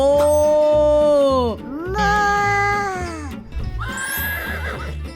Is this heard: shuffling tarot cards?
no